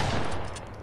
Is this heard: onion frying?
no